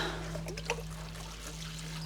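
Water trickles gently onto a freshly repotted houseplant, a faint, soft pour over a steady low background hum.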